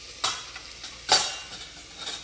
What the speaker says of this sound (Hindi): और हल्दी अच्छे से मिला लेता हूँ और कुछ देर के लिए भूनने के लिए छोड़ देता हूँ